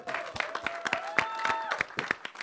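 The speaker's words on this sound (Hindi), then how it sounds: "जोरदार तालियां हो जाए" Steady audience applause with many hands clapping in a dense, continuous patter, moderately loud and sustained throughout.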